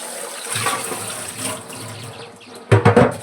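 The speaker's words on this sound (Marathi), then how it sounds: "तर हे आपण स्वच्छ धुवून साफ करून घेऊया।" A dirty part is rinsed and scrubbed under running water, a moderate continuous splashing flow with heavier gushing bursts near the end and no talk.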